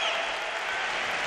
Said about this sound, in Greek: Και τα χειροκροτήματα από τους περίπου